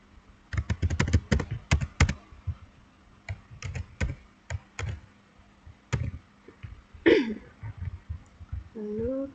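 Input being typed on a computer keyboard, with bursts of crisp key clicks in quick runs and scattered single taps, close up, and a brief voice sound partway through.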